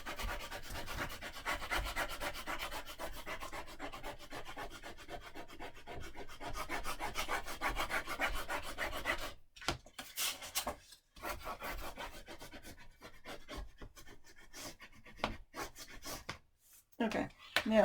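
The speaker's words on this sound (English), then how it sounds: "Now let's go ahead and burnish real well." Paper in a handmade camping mini album is burnished firmly with a tool, a steady close rubbing and scraping that continues in rapid strokes, briefly pausing and resuming toward the end.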